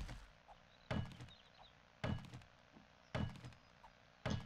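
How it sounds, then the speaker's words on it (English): A fire axe chops wood in 7 Days To Die, four heavy, evenly spaced thunks about a second apart, each with a brief splintering tail over a quiet game ambience. "we can stop off and gather some wood. Use our fire axe until it breaks"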